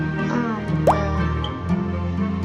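A character drinking water in the Roblox Adopt Me game makes a single short plop or gulp effect over steady game background music, with no speech.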